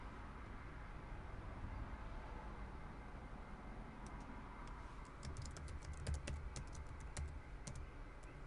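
Typing a short command on a computer keyboard at a console prompt during a server lab: a cluster of quick, light key clicks in the second half, fairly close, over a steady broadband hiss with no talking.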